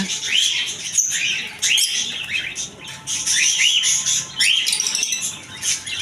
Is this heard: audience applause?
no